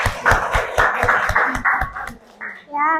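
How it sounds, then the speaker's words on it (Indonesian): A classroom group of students claps for another group: about two seconds of brisk, close hand clapping from a small crowd that fades out, then a voice speaks briefly. "Tepuk tangan untuk kelompok 3."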